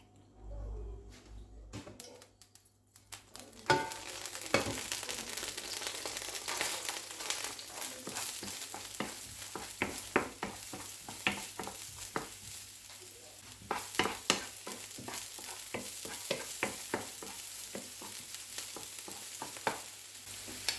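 Steady sizzling of chicken frying in a pan, with frequent scraping and stirring clicks throughout, fairly close.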